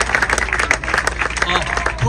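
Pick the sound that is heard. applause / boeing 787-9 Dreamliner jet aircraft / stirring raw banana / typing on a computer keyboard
applause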